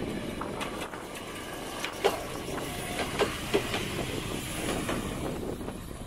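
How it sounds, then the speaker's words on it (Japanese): A Choshi Electric Railway train passes close by on a small local line, with a steady rolling rumble and rhythmic clacks of wheels over rail joints throughout. "お、奇跡的に今電車来たわ。"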